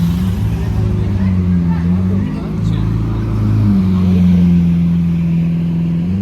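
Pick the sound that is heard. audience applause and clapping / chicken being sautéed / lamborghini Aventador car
lamborghini Aventador car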